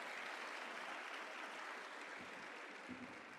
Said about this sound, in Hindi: एक बार उन सभी के लिए तालियां बजनी चाहिए।